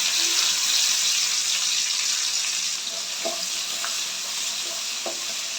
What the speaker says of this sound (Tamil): இது ரெண்டும் நல்லா ஃப்ரை பண்ணிக்கோங்க நல்லா வதங்கட்டும்